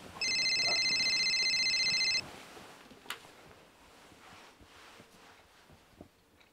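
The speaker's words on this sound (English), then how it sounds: "You can answer the phone or not?" A telephone rings in a quiet room, one electronic trill lasting about two seconds, followed by faint rustling and small clicks.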